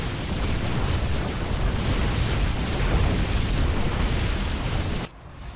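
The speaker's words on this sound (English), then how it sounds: "Really killing those buildings quickly." Buildings being destroyed in the StarCraft video game, heard as a steady, dense roar of explosions and blasts that runs loud for about five seconds and then cuts off sharply.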